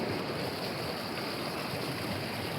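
Cold forest stream in Crestone, Colorado, flowing steadily with a continuous broadband rush and gurgle, close and fairly loud, with no voices.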